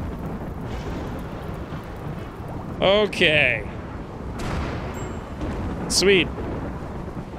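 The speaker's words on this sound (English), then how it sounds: "There's the rain." Rain with rumbling thunder in the Rimworld video game, a steady wash of rainfall with deep rolls beneath, while someone speaks briefly over it.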